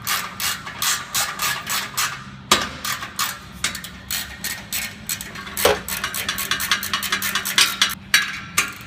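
A ratchet wrench tightens a clamp on an aftermarket muffler flange during an exhaust installation. Rapid clicking ratchet strokes come in uneven bursts, close and clear, with no talking.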